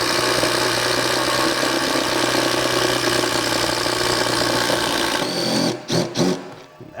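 A DeWalt Atomic DCF850 compact impact driver drives a 1 1/4 inch fastener, a loud continuous rapid hammering whir that runs for several seconds, then stops with a few brief stutters and pulses at the end.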